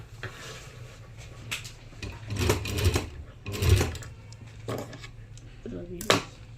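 A sewing machine stitches a simple jabba garment in bursts of mechanical whirring, with short runs starting and stopping under a steady low hum and occasional clicks, close by.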